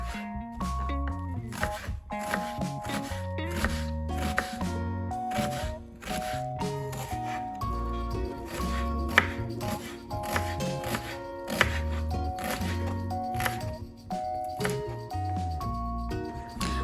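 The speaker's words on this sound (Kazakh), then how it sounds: "1 дана пияз, оны да өте ұсақ етіп турап дайындап аламыз" A knife finely chops an onion on a board in rapid, regular strokes, crisp and close, running steadily beneath background music.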